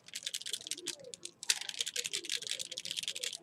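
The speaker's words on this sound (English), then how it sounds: "And we'll shake up our mist here" A mist spray bottle is shaken in quick bursts, giving a steady, close-up rattling slosh that runs throughout, with a sharper jolt partway through.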